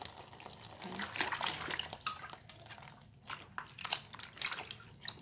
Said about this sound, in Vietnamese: Và bây giờ chúng ta đi rửa nấm nhé.